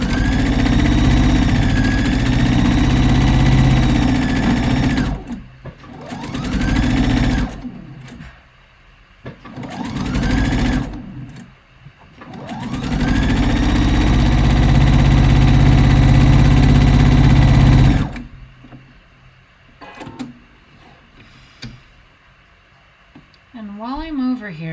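A sewing machine stitches fabric for a robe jacket, its motor whirring loudly and close in several long bursts with short pauses between runs, while a voice is heard in the gaps.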